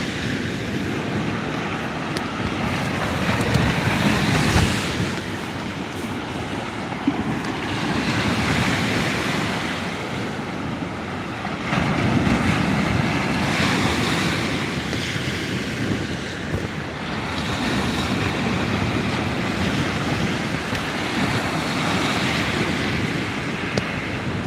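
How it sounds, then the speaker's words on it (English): Wind at sea during kayak fishing, a steady gusty rush with buffeting on the microphone, mixed with waves and water lapping close around the kayak, with no talk. "The wind's getting up a bit, like Kojak said it was gonna."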